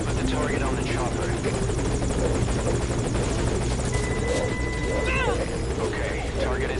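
Helicopter hovering at a landing zone in a video game, its steady loud rotor chop continuous throughout, with voices talking over it.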